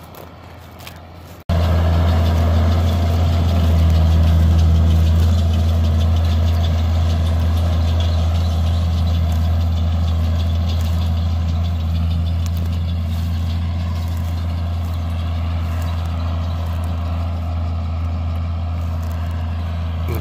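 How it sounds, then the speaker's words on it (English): A farm baler runs steadily while baling flax straw in an open field, its deep engine drone starting abruptly after a quiet moment and holding loud and constant to the end, with no talking. "this will be probably the last time we see the baler running this year"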